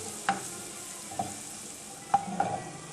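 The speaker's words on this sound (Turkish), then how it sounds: "Şimdi kalan yağ sade hamurlarımızı bırakıyoruz ve aynı şekilde kızartıyoruz." Plain dough for hamur soup fries in hot oil with a steady sizzle, broken by a few sharp clinks and scrapes of a utensil against the pan.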